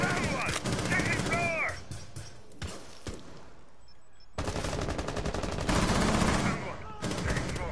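Gunfire in a shooter video game rings out in rapid bursts and single sharp shots, close and loud, with a short quieter gap before the firing resumes.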